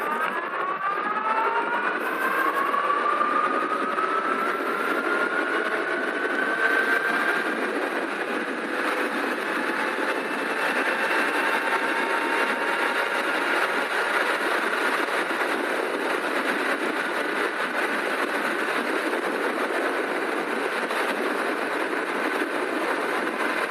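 Super73 RX 72v electric bike with an upgraded 48 mph controller accelerates toward 40 mph. A rising motor whine sweeps upward and then holds amid steady wind roar with no speech.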